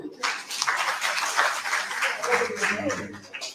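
Applause from a crowd at a political party gathering in Kano State greets the deputy state chairman, a dense, steady wash of clapping that runs throughout, with voices mixed in.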